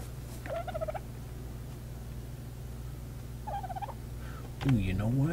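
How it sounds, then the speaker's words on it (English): Dodo bird in the video game ARK gives short warbling calls, two brief bursts early on and a louder, nearer gobbling cry near the end, over a low steady hum. "Come here, you little dodo bird."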